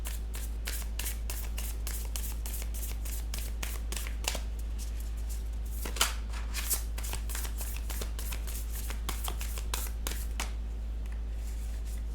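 Moonology oracle cards are shuffled by hand in a rapid, steady run of riffling slaps and flicks, close and continuous over a low constant hum.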